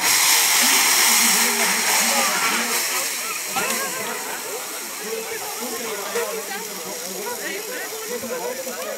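Water splashed onto burning cooking fat in a fire brigade demonstration, giving a loud, sustained hissing roar of flaring steam and spattering that stays broadband for the whole stretch and eases slightly toward the end, with voices faintly underneath.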